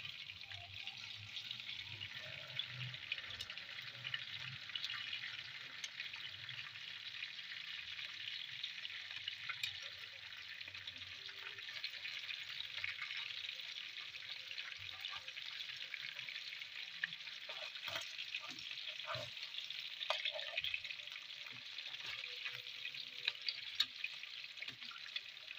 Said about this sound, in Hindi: ताकि फ़िश हमारी जो है वो फ्राई भी हो जाए और साथ साथ जो है वो सॉफ्ट भी जल्दी हो जाए